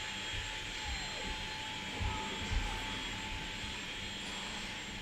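A vacuum cleaner runs somewhere downstairs, giving a steady, fairly faint whirring drone that holds evenly from start to finish without breaks.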